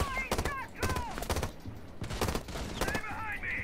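Rapid gunfire in the tactical shooter Rainbow Six, bursts of close, loud shots in quick clusters, with a player's voice talking over them.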